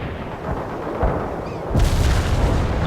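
Cluster-bomb airstrike in the war video game The Third World War, low rumbling blasts that swell into a heavier, louder boom of detonations near the end, dense and booming with no voices.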